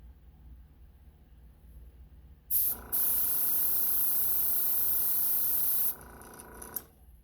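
Airbrush spraying Scarlet Red paint onto a custom spinner: a short test burst, then a loud, steady hiss of about three seconds that cuts off abruptly, heard alone with no talking.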